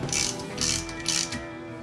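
Ratchet tightening a bolt on a belt drive pulley during a rebuild, three quick bursts of close metallic clicking in a steady rhythm.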